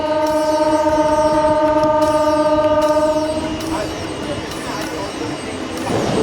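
A local train on the Howrah to Digha line rolls onto the Kolaghat bridge. A loud, steady horn sounds for several seconds over the rumble of the wheels, then gives way to rattling and clanking on the bridge, with a voice heard under it.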